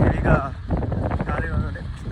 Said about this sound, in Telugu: హెవీ గాలి వస్తుంది అనమాట